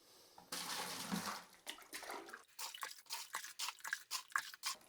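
Six quarts of water poured into a bucket for mixing floor leveler in a bathroom: a steady soft gush that breaks into a run of splashy glugs and drips near the end, fairly quiet with no talk.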